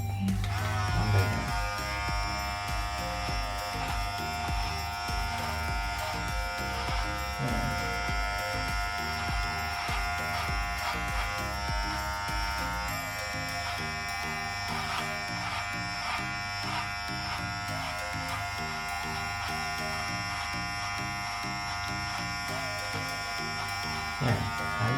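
A Philips Multigroom Series 7000 MG7720 electric trimmer runs continuously at close range, giving a steady high buzzing drone with a faint shift in tone partway through.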